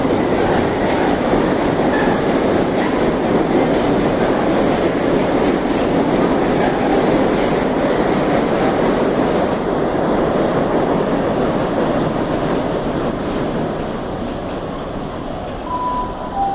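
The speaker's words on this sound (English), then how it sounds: "Right now we have a class 70 passing through Exeter St. David's." A Class 70 freight train passing through Exeter St Davids station on the Great Western Main Line, a loud, continuous rumble and roar of wagons rolling by close at hand, easing slightly near the end.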